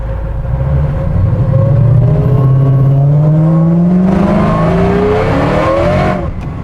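A supercharged Coyote V8 in a 1971 Ford F100 pickup accelerates hard, its engine and supercharger whine rising in pitch through a gear shift, loud and close from inside the cab, then easing off.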